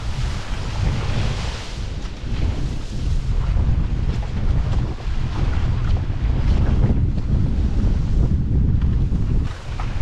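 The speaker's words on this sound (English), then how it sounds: "the wind's blowing about 30 knots, maybe more, but so much fun on my Nello 510 plastic" Strong wind of about 30 knots roars across the microphone aboard a Nello 510 plastic boat sailing downwind through waves, loud and continuous, with gusts and water rush blending into a constant buffeting rumble, no voices.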